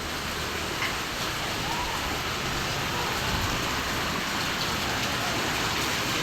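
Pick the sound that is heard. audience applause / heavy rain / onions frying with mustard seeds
heavy rain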